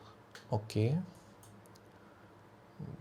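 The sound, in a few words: computer mouse clicks while configuring a MikroTik router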